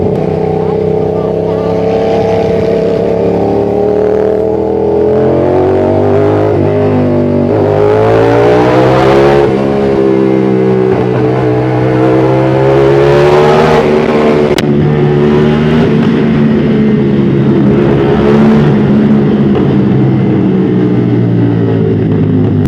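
A loud motorcycle engine revs and roars continuously at night, rising and falling in pitch, with a booming, echoing quality inside a tunnel on the Marilaque highway.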